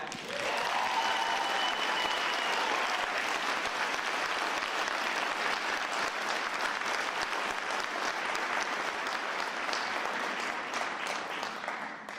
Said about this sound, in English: Join me in a round of applause to warmly welcome and recognize the 100th Mayor of Philadelphia